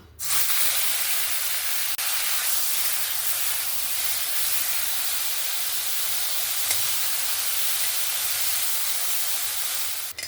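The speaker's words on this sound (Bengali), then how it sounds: "কড়ার মধ্যে যে সামান্য একটু তেল আছে, ওতে কিন্তু আমি চিংড়ি মাছটাও ভেজে নেব।" Shrimp fry in a little oil in a pan, giving a loud, steady, close hiss of sizzling that holds evenly throughout without pause.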